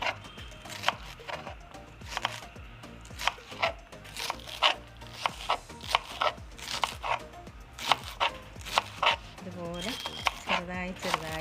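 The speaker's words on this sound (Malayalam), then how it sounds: "നമുക്ക് എല്ലാം അരിഞ്ഞെടുക്കാം" Taro leaves being sliced thin with a knife for a Karkidakam curry, a quick, steady run of crisp chops on a board, close and clear, with a voice talking now and then.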